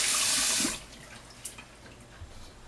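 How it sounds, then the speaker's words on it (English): Cold tap water runs hard over raw chicken breasts in a home kitchen sink, a loud close rush lasting under a second before cutting off to quiet room tone with a few faint knocks. "We're also going to run some cold water on these chicken breasts."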